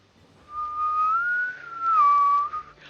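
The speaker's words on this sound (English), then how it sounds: "I don't know why I want to whistle." A person whistles alone in a clear, steady tone, holding one note, rising slightly, then dropping to a different pitch before fading out. No one speaks.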